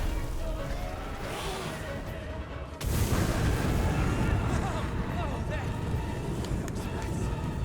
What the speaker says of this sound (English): I guess we are using the cannons.